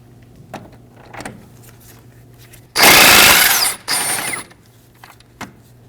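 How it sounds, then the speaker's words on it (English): An impact gun rattles off a 15 mm outer tie rod nut on a 2014-2023 Ford Transit Connect: one loud, harsh burst of about a second, a short pause, then a second shorter burst, amid light workshop clicks. "We are going to remove our outer tie rod nut using a 15mm on the impact gun."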